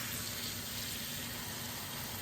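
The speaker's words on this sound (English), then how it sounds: "And then I just fill this with water." Tap water runs into a crock pot, a faint, steady hiss of flowing water with no other sounds.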